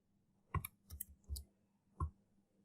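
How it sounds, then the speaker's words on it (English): Several crisp computer mouse clicks sound close and isolated against near silence, four quick clicks spaced unevenly over a couple of seconds. "So click here, add table"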